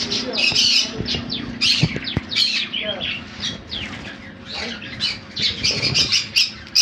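Blue bonnet parrots squawking in a bird sale setting, a run of harsh, loud repeated calls mixed with chirps and some wing noise, with other birds around.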